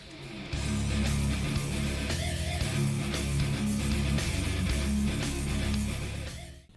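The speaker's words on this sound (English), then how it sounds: "the music from the main game of Painkiller sounds like this." Main game soundtrack from the video game Painkiller, dense loud heavy music with a pounding low rhythmic beat and layered tones, playing steadily for several seconds with no voices.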